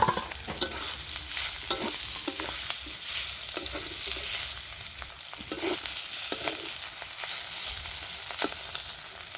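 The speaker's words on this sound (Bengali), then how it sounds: "তো তেলটা গরম হয়েছে, তেলের মধ্যে আমি মাশরুমগুলো দিয়ে ভেজে নিচ্ছি।" Mushrooms fry in hot white oil in a wok, giving a steady, bright sizzle punctuated by sharp stirring scrapes and clinks of the spatula, with no talking.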